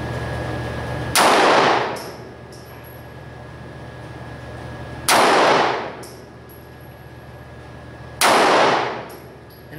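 Three loud, sharp 9mm pistol shots fired from a short-barreled Kahr PM9 loaded with Speer Gold Dot 124 grain +P hollow points, spaced a few seconds apart, each followed by a brief ringing decay.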